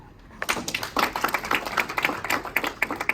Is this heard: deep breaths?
no